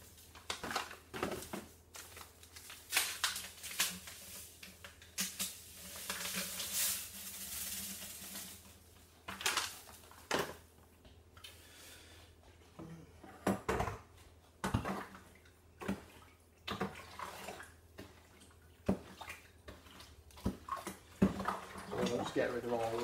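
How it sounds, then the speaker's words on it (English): Water is poured into a sugar wash for a T500 still and stirred, giving splashy pouring bursts and scraping, knocking stirring strokes in a container, close and uneven, with someone speaking between the sounds. "give it a good stir, and we'll add a bit more water,"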